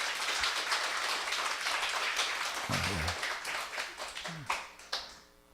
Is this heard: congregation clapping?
yes